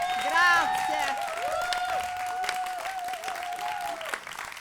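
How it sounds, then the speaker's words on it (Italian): Live audience applause for a guest at a recorded comedy podcast show, fading gradually under a steady music tone and occasional voices. "Un applauso scrosciante"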